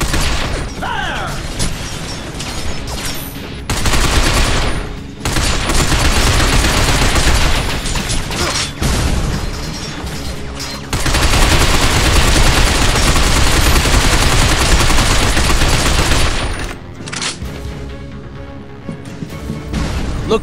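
Dense gunfire in the video game Binary Domain, with long sustained bursts of automatic fire and mechanical clatter, loud and close, broken by short pauses.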